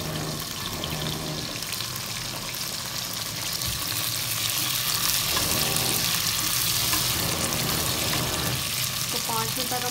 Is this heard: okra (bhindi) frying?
yes